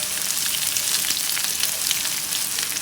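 Onion, green chili, dried red chili and tomato sautéing in oil in a pan, giving a steady, close, loud frying sizzle with no voices.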